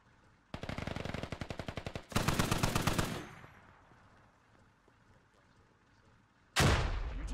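Gunfire in the tactical shooter game Squad: a rapid automatic burst of evenly spaced close shots, a second heavier burst, a quieter lull, then another loud burst, with no talk.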